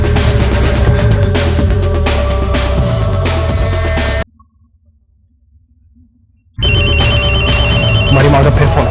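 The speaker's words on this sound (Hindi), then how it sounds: "हमारी माँ का फिर फोन।" A telephone rings for an incoming call during a tense domestic drama scene, its ring mixed with background sound and voices, dropping to near silence midway before a bright, repeating tone resumes loudly.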